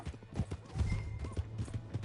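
A horse gallops in the Western video game Red Dead Redemption 2, with rhythmic hoof clip-clops on the ground close by and a brief whinny mixed in, carrying steadily across the moment without talk.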